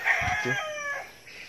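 A rooster of Brahma chickens kept in a backyard flock crows once, loud and close, its long drawn call tapering off after about a second with no talk over it.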